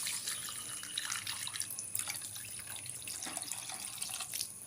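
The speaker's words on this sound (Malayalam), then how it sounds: "നമുക്ക് വെള്ളം ഒഴിക്കാം കേട്ടോ." Water poured into a pan of Kerala-style shark curry, a steady splashing, trickling stream running close and continuous for several seconds with no talk over it.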